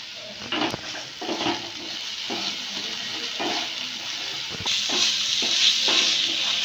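Spice masala with Kashmiri chili and green chili paste frying for chana masala, a continuous sizzle broken by rhythmic scrapes of a spatula against the pan and a sharp clank, growing hissier near the end.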